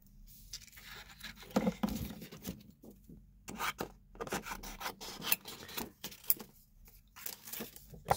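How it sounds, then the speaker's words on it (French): Scissors cut around a craft piece during a tutorial, giving close, irregular snips and rubbing rasps in uneven bursts with brief pauses between them. "on va découper tout autour"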